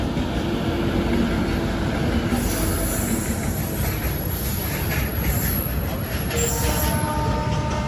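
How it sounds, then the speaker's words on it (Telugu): A heavy goods train hauled by twin locomotives rumbles steadily past close by, wheels grinding and squealing on the rails with a continuous roar throughout. "అటు ట్రాక్లో వచ్చే గూడ్స్ ట్రైన్,"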